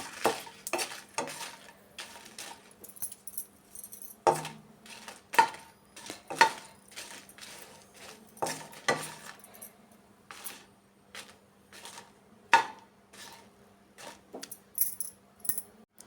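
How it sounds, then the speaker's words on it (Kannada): Peanuts fry slowly in a pan over a low flame for peanut chutney while a utensil stirs them, making steady light scraping and clicking with a faint sizzle underneath, close by and without speech. "ಈ ಥರ ಕಡಿಮೆ ಉರಿಯಲ್ಲಿ ನಿಧಾನಕ್ಕೆ ಫ್ರೈ ಮಾಡ್ಕೊಬೇಕು"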